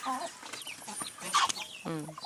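Agitated clucking and squawking from fighting turkeys, geese and ducks, with sharp cries and flapping bursts, fairly close and continuous.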